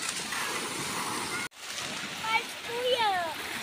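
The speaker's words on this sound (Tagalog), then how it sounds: "lumalakas yung alon" Steady broadband rush of waves washing onto Casapsapan Beach, briefly cut off, then resuming with children's voices and squeals over the surf.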